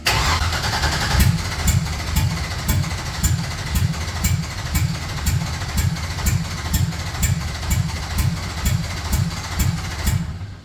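A Chevrolet C10 with an LS engine cranks in a steady, loud rhythmic chug, catching and running roughly on one cylinder with regular pulsing beats, close by.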